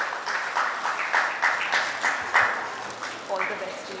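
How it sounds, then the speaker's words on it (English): An audience at a trade conclave applauds, clapping steadily and fairly near for several seconds with a voice speaking over it. "Big round of applause."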